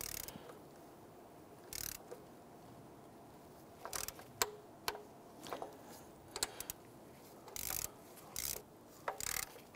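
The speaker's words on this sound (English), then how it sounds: "Let's go ahead and torque these down to 17 foot-pounds." Ratcheting clicks from a torque wrench tightening the valve cover bolts on a 1992-1996 Toyota Camry, coming in short bursts of close mechanical ratchet clicks with pauses between them, over a steady low hum of workshop background.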